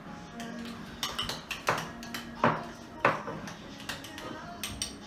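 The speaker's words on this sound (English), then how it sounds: "put an abundance in the dish with the butter, get it nice and squishy, mix it all up" Herbes de Provence being mashed into butter in a dish, the utensil clinking and tapping against it in an irregular series of light knocks, close up.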